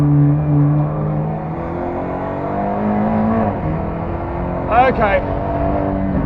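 A race car's engine drones and rises as it accelerates to overtake another car on a track, heard steadily from inside the car, with a short spoken word over it.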